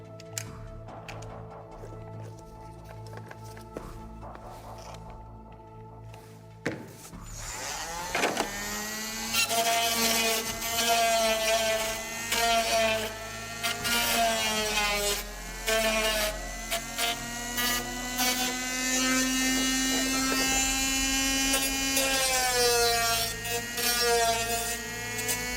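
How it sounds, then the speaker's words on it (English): A high-pitched sanding drum whirs steadily for a long stretch, its pitch rising and dipping as it grinds out the wheel wells of an RC car body shell, loud and close. "This tool is called a sanding drum"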